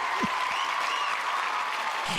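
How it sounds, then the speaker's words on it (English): Steady crowd applause with dense, even clapping throughout, heard at moderate loudness, with a brief low voice sound near the start. "I don't know why you're applauding that"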